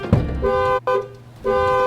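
A car alarm blares nearby with loud, sustained honking tones, broken by one brief gap, then a quieter stretch before the honking resumes, with no talking over it.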